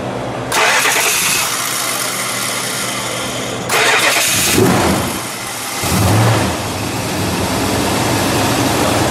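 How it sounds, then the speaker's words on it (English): A 1969 Plymouth Barracuda Cuda with its 440 engine cranks and fires indoors, settling into a loud, steady rumbling idle, then gives a couple of brief throttle blips that swell over the idle. "let's fire it up. We're going to listen to it idle"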